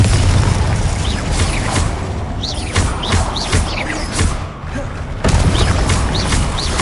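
Confringo explosive spell blasts in Hogwarts Legacy: loud booms and bursts go off repeatedly amid busy combat noise.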